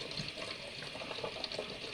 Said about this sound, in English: This one I'm going to rinse out for recycling.